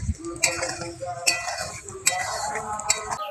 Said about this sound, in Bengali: এবার দিয়ে দেবো কেটে রাখা আমটা। একটু অল্প আঁচে নেড়ে দেব।